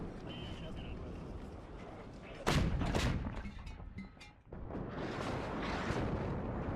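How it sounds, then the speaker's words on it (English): A 122mm artillery barrage fires in the WARNO video game: a sudden loud blast, then a second boom and rumbling, a quieter stretch, and another heavy rolling report, with someone talking throughout. "The 122mm artillery getting that smoke off now"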